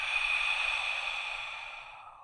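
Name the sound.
loud exhale during breathing exercise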